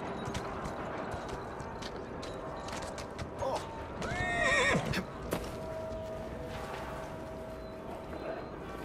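In the video game Assassin's Creed Syndicate, hooves clip-clop over a busy background, and midway a horse lets out a loud, clear whinny before the hoofbeats carry on.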